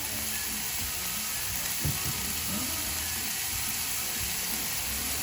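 Seasoning for Haitian macaroni au gratin sautés in a pan with a continuous close hiss and bubbling, plus a brief clatter of stirring partway through.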